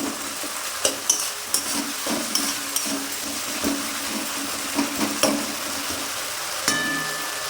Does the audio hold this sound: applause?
no